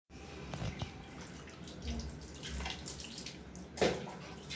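Water runs and splashes steadily from a tap or poured vessel as a face is washed during a Hindu family ceremony, soft and close, with one brief louder splash near the end.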